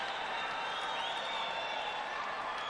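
A home crowd at a judo Grand Prix final in Tashkent roars and applauds after a gold-medal attack, a steady, dense wash of cheering that fills the arena with no break.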